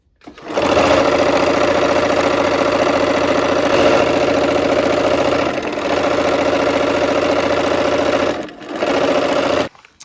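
A sewing machine runs steadily for nearly ten seconds stitching pink quilt pieces, a loud close whirring hum with only brief slowdowns and a short pause before it stops.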